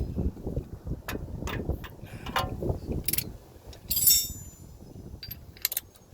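A hand ratchet with an extension tightens a 21 mm bolt on a 2003-2009 Toyota 4Runner during a rack and pinion replacement, giving close, rapid clicking strokes in short bursts amid metallic handling noises.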